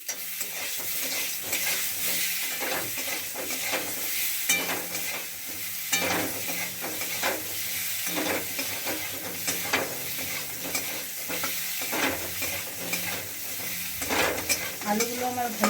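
Potatoes fry in leftover egg oil in a wok, a continuous close sizzle with frequent scraping stirs and occasional pan knocks.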